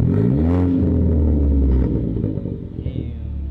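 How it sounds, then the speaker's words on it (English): An Infiniti G35 with a six-speed swap revs loudly and close by, a deep steady engine roar that climbs in pitch, then eases to a rougher idle rumble. "Hey Steve, can I step on the gas a little bit?"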